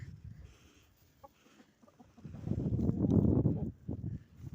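A hen clucks and squawks in a chicken coop, with a few scattered clucks building into a louder, agitated burst of calls close by.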